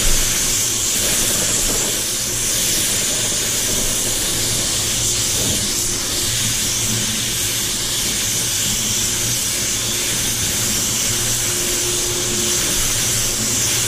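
A spray gun lays heavy paint onto a two-tone Range Rover Velar, a steady close hiss running unbroken throughout with a low background hum and no talking.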